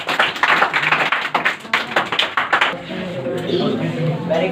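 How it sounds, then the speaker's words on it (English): A classroom of students claps for a classmate, a quick run of uneven hand claps that fades after a few seconds as murmured voices take over. "Clap for him."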